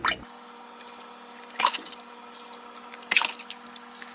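Water drips and splashes as cannabis plants in flower are top-watered in a self-watering hydroponic setup, with a few louder drip bursts over a low steady hum, close by and with no talking.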